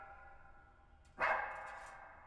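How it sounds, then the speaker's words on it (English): A single dog bark sounds partway through, a short loud burst that trails off into a faint background hum. "who's the dog barking at?"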